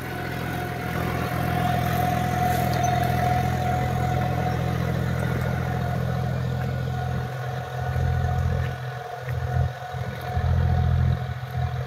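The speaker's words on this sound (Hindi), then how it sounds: "बहुत शानदार हैरो चल रही भाई साहब" A John Deere 5205 Power Plus tractor pulls a harrow through a field, its engine a steady, loud mid-pitched drone with a constant hum and some clatter, dipping briefly in the last few seconds.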